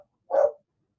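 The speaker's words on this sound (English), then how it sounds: "And that's my dog deciding to bark in the middle of this." A dog gives a single short, sharp bark, fairly close and loud, standing alone in an otherwise quiet room.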